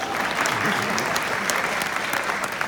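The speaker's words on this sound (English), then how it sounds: "Round of applause" Steady applause from a concert audience at a holiday a cappella show, a dense, continuous clapping roar with crowd noise and some voices mixed underneath.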